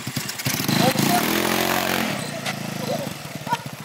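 A small tandem scooter engine starts and revs up and down briefly, close, with voices talking over and around it.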